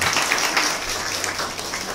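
Audience at a cultural event in Târgu Ocna breaks into applause, a dense, steady wash of clapping from a crowd that slowly fades over two seconds.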